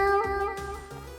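A person imitates a cat, giving one drawn-out vocal meow that rises and then falls, with a slight room echo and no other talk.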